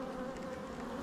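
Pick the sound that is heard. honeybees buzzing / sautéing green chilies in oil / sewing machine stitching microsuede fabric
honeybees buzzing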